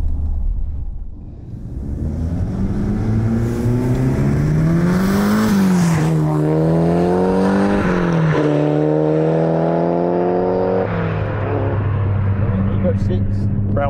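A Mitsubishi Lancer Evolution TME RS accelerates hard from inside the cabin. The engine note climbs loud and throaty through several gear changes, and people talk over it.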